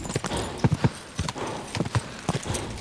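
Hooves of a horse galloping in the video game Kingdom Come: Deliverance 2, a quick rhythmic clip-clop of hoofbeats close by, repeating in groups over the whole stretch with faint background noise.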